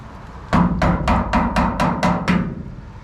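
A flathead screwdriver is driven against the fuel system locking ring of a 1967 GMC 910, giving eight sharp metallic taps in an even rhythm, close by with no talking.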